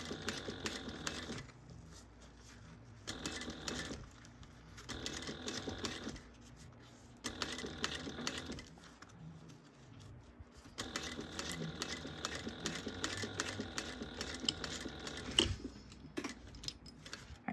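A sewing machine stitches a zippered pouch in bursts of steady rapid stitching, pausing briefly between runs, close and fairly loud with no talking.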